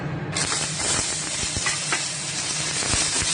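Ginger hits hot oil in a pan and sizzles at once, a bright, loud, continuous frying hiss that starts abruptly and carries on steadily with a few soft stirring knocks and no talking.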